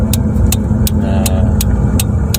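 A car engine runs steadily and loud as the driver shifts into first gear to pull into a narrow alley, with a turn signal ticking in regular clicks over the continuous motor hum.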